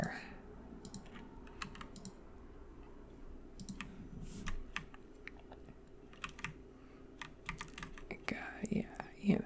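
Computer keyboard typing in soft, uneven bursts of clicking keys, close and quiet, continuing through the whole stretch with faint low background noise and a few louder clacks near the end.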